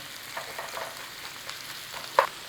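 Onions fry gently in a pan with a little salt and sugar for a British sausage pie, a quiet, steady sizzle with soft stirring and one sharp clink near the end.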